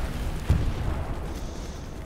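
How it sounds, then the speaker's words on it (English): A grenade blast in the World War II shooter Hell Let Loose, a single dull low boom up close followed by a rumbling wash of low noise that slowly fades. "Was that a grenade that just hit me in the face?"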